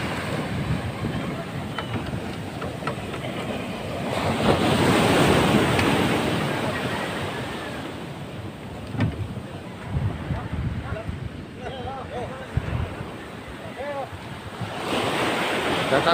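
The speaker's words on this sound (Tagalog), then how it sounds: "Sobrang lalaki ng alon." Large ocean waves roll in and break on a shore where boats are kept, a loud surging roar that swells and recedes over wind buffeting the microphone, with brief voices.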